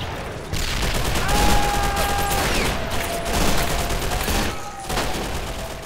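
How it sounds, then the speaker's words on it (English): Cannon blasts and small-arms fire in the WW2 Chronicles Stalingrad battle, a constant roar of overlapping shots and booms with thumping impacts and occasional whistling tones. "We're shooting. Cannons are opening fire."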